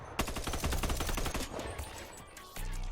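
A rifle fires in the virtual reality game Bonelab, a rapid burst of sharp, evenly spaced shots lasting about a second and a half, then fading, with a brief loud thump at the end.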